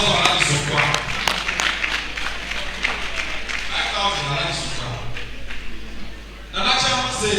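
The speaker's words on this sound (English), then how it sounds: "Please, let's clap to motivate." A lecture audience at the John Atta Mills Commemorative Lecture 2023 claps in a dense, sustained patter that dips briefly near the end and then swells again, while a voice talks over it.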